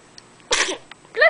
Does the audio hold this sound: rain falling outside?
no